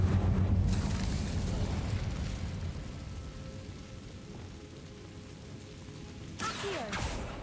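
A fire spell cast in Hogwarts Legacy bursts with a loud whooshing roar, then settles into a low, sustained crackling rumble before a second sharp flare near the end.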